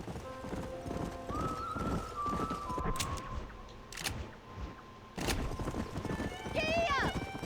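Horse hooves clip-clop in a steady galloping rhythm in the Red Dead Redemption video game, with a neigh near the end, while voices talk over the hoofbeats and background music plays.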